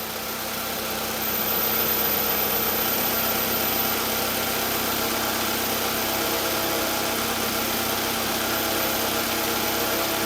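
A Toyota Highlander with a lean-condition and misfire fault idles steadily, a constant close engine hum and vibration with no other sounds.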